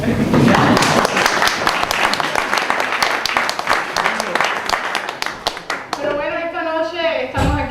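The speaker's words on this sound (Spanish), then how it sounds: "Sí, eso merece un aplauso." Audience applause at an evening event honouring someone, a dense, loud wash of many hands clapping for about six seconds before fading out as a voice begins speaking.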